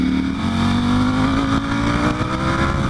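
A Ducati Panigale V4 Speciale motorcycle is ridden hard through canyon roads, its engine droning steady and loud close up with a rising rev and a strong low rumble, and no talk.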